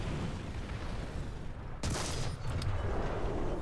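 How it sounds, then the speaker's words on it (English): A tank cannon fires in War Thunder from the Panzer III N, one sharp broadband report standing out from steady engine and battle rumble, followed by a couple of fainter crackles. "Shot at the T-17 and miss."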